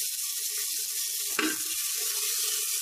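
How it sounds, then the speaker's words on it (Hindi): Chopped onion fries in oil in a pan over a medium gas flame, making a steady, close sizzle with a brief stirring scrape partway through. "अब डाल देंगे इसमें हम कटा हुआ प्याज और इसे हम हल्का ब्राउन होने तक फ्राई कर लेंगे।"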